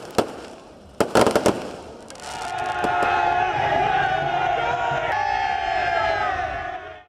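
Fireworks at a by-election victory celebration in Lahore: a few sharp loud bangs crack out first, then a long whistling, crackling burst runs on while a crowd cheers and whoops.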